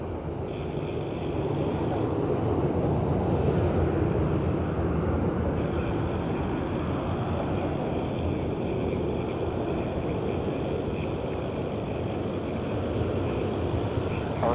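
An aircraft takes off from runway 05 at Madeira Island Airport on a windy day, a loud, steady, broad engine roar that holds throughout with wind rumble underneath.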